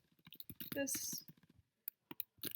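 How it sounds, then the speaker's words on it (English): Computer keyboard keys clicking as an email is typed, with scattered light taps and short bursts, mixed in with nearby speech. "I can type an email"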